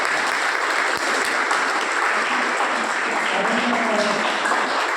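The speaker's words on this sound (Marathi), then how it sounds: "आपण पांडुरंगासाठी सगळ्या टाळ्या वाजवतो" Steady applause from an audience at a school event in Nagpur, a dense continuous clatter of many hands clapping evenly for the full stretch, with faint voices beneath.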